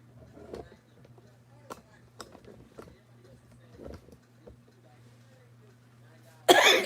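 A few short coughs and throat-clearing sounds come in bursts over a low steady hum, ending with a sudden loud rustle.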